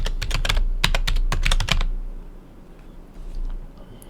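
Fingers type on a computer keyboard nearby, a quick burst of sharp clattering keystrokes, then a quieter stretch with only a few faint clicks.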